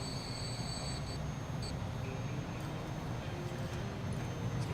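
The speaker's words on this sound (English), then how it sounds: "Alright, we have a Patterson Columbus Steel train." A Patterson Columbus Steel train in Transport Fever, set in 2003, rumbles steadily with a continuous low rolling drone and faint high wheel squeal, with no voices over it.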